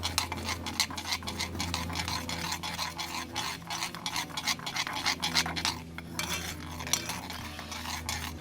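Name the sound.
stirring peri peri butter sauce on the grill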